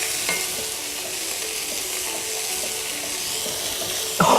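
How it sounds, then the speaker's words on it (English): A spoon stirs pork meatball and pearl barley soup in a pot, giving a soft continuous swish over a faint sizzle, and ends in a short louder scrape. "Give the soup another stir."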